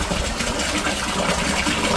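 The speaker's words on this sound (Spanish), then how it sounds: "os voy a enseñar lo que es una fuente que creo que todavía, si se escucha el agua" Water running steadily in an old fountain in an abandoned Barcelona neighbourhood, a continuous close splashing and trickling wash with no voices.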